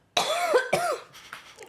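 A person coughs twice in quick succession, close and fairly loud, followed by a few softer breathy coughs and throat sounds trailing off.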